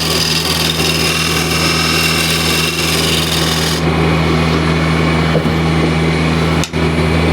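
Wood lathe cutting with a square scraper in a woodturning workshop, a loud continuous whirring hum with a steady scraping hiss that shifts tone midway.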